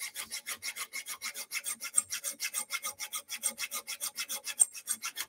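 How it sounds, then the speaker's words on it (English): Steady back-and-forth rasping of a metal file dressing a hand plane blade, a regular stroke roughly every fifth of a second, close and clear with no talking. "So we file it, we push it down."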